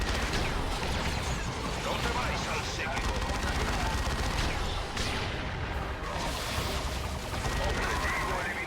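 Squads in the game Dawn of War II trade dense, continuous gunfire with rapid bursts, crashes and booms, while a voice speaks over the battle.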